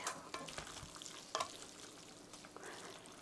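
Spaghetti in tomato sauce being stirred in a pan, with several quick scraping and clattering strokes over a soft sizzle, close and fairly quiet.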